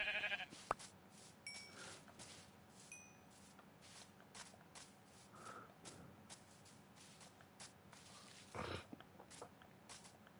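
Sheep bleat in a Minecraft world near a cherry blossom biome: faint, scattered short bleats among quiet game ambience, with no speech.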